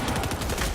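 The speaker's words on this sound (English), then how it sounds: "This Havoc shotgun does a lot of damage with the SMG follow-up" Havoc shotgun and SMG fire in a first-person shooter match during a TDM game at a team esports tournament, a brief dense burst of rapid gunshots under steady game sound.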